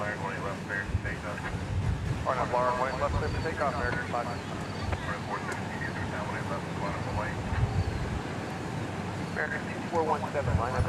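An American Airlines passenger jet at DFW Airport gives off a steady broadband rumble, with wind buffeting the microphone and a person talking over it.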